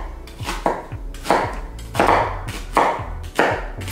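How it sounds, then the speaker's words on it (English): Knife roughly chopping peeled onions on a cutting board, a run of firm, close thuds at an uneven, steady pace, alone with no talk. "I'm just gonna go with a super rough chop here because I'm gonna get these blended up"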